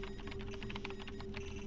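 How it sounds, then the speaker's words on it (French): Rapid keyboard typing from the Paper Mario video game, a dense run of light clicks and clatters over a steady low electronic hum and background music. "Saisis ton message et l'adresse du destinataire sur le clavier devant moi."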